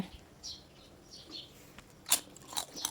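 Crunchy fried whole-peel banana chips chewed close to the microphone, a few sharp crisp crunches near the end following quieter mouth sounds, with no talking.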